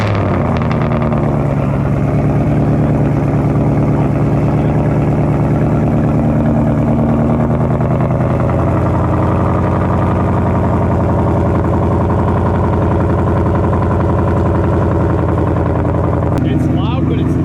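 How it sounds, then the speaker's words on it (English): A boosted Ford Mustang engine turns over and settles into a loud, deep AWE track exhaust rumble that drones steadily throughout, close and powerful. "it's the first start with the AWE track exhaust."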